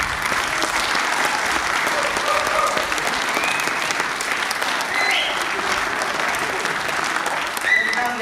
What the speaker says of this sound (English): But I think they're the ones who deserve the round of applause.